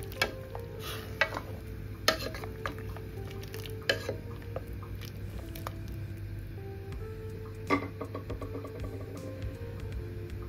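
Carrot and pumpkin soup with potato, herbs and vegetable stock is stirred in a pot, giving soft irregular scrapes and light knocks of a spoon over a quiet simmer.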